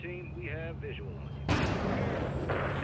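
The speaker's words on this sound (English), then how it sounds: "Oh, no way I get to shoot missiles." Helicopter missiles launched in Modern Warfare 3: a low rumbling engine hum with a voice over it, then a sudden loud blast and sustained roaring rush that keeps going to the end.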